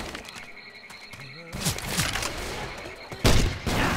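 Bursts of gunfire ring out in Left 4 Dead 2 during a Swamp Fever co-op round, sharp loud cracks that arrive in rapid clusters with short gaps between them, layered over busy game noise.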